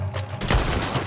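A gunshot in the video game Red Dead Redemption 2 lands as a single booming crack with a rumbling tail, loud against a dense background of game noise.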